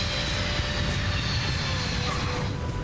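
Lockheed C-5 transport plane touching down on landing, a loud, steady broadband roar of jet engines and rushing air that holds constant throughout with no voices.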